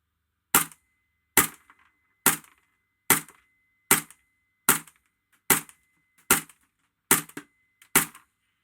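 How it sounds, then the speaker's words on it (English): An EMG Noveske N4 airsoft rifle fed from TM magazines fires a ten-round string of sharp, evenly spaced single shots, each a loud close crack with a short decay, and no voices are heard. "we're going to do another 10 round out of the TM Stem mags."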